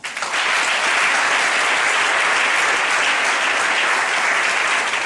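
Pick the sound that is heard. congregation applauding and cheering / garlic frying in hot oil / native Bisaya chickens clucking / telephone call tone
congregation applauding and cheering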